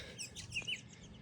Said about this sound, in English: Hear the birdies tweeting.